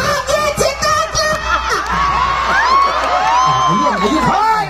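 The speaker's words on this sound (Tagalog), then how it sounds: "magpalakpakan po na may kasamang sigawan na nagsasabing pangit si Tekla!" Crowd at an outdoor street comedy show in Masbate shouting and cheering together, a dense wash of many voices with whoops and yells rising and holding steady throughout.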